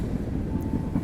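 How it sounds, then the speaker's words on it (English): Train rolling past outdoors beside a parked 2021 Bentley Flying Spur W12 in winter, a steady low rumble that holds without a break. "As we get another train passing by"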